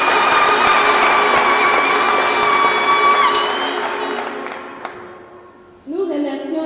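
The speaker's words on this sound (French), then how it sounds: "Applaudissez les catéchistes" At a confirmation mass in a parish in Dembe, Chad, a congregation applauds the catechists: dense, sustained clapping that fades over several seconds, mixed with a tonal background, then gives way to other sound.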